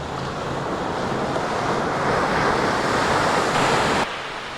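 Ocean waves breaking on the beach at Cape Henlopen, Delaware, a loud continuous wash of surf that builds toward the middle and holds steady, with wind across the microphone and no talking.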